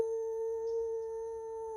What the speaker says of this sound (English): Ooh, it's howling again.